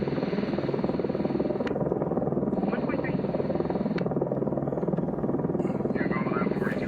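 A helicopter drones overhead near an outdoor firepit, a constant buzzing, thudding rotor sound that holds steady throughout while someone talks over it.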